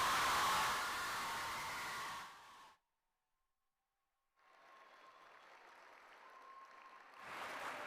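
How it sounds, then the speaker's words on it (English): A school cultural festival crowd applauds the performing pavilions, a loud wash of clapping that cuts off abruptly, leaves a short silence, then returns more faintly and swells again. "let's give one more big, energetic set of applause for all the pavilions that have performed today and yesterday"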